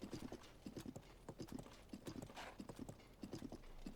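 Horse hooves beat in quick, repeated galloping clip-clops as a horse is ridden in the video game Zelda: Tears of the Kingdom, close and rhythmic with a faint breathy rush mid-way.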